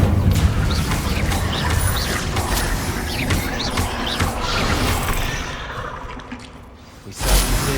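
Incendio fire spell blasts roar through a Hogwarts Legacy fight as a loud, continuous rush of whooshes, crackles and crashes, easing briefly before a final burst.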